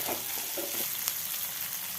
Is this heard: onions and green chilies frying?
yes